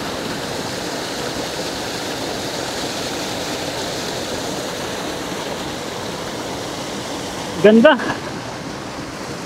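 River water flowing steadily near Paliguang Aso Dam in Bailen, Cavite, a constant broad rushing wash, with a brief spoken word near the end.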